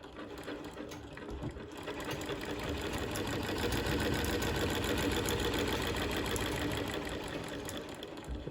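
An old treadle sewing machine, unused for decades, stitches in a fast, even mechanical clatter that builds up and runs steadily, close and moderately loud.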